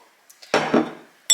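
A spoon measuring olive oil into a bowl for a two-ingredient sugar scrub gives a couple of faint light taps, then a louder metallic scrape and clink against the bowl, with another sharp clink at the end, close up and without talk.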